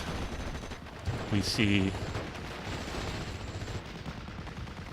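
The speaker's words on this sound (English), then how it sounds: "Tetrarch is providing fire support as well as the mortar." A mortar and a Tetrarch tank fire in support during a Steel Division: Normandy match: a short cluster of muffled, fairly faint bursts beneath a steady background hum, with a voice speaking briefly.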